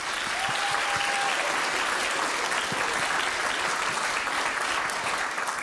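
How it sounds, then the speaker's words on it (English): Sustained, dense applause from a conference audience at an annual child protection gathering, steady and full throughout with no pauses or speech over it. "I hope you will all join me in giving them a very well-deserved round of applause"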